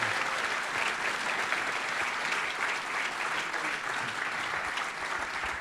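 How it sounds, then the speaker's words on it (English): An audience at a talk about the Eagles Encyclopedia gives a round of applause, a steady, dense clapping that holds evenly throughout. "Could we have one more round of applause before we go to Q&A?"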